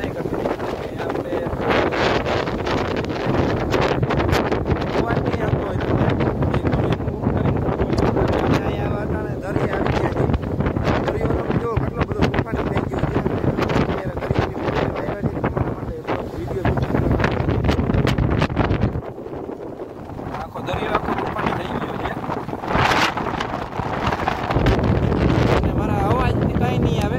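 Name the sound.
wind blowing during heavy rain in Dwarka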